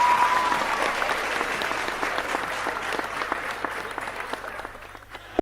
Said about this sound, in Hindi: भैया ताली बजा रहे हो कि तंबाकू ठोक रहे हो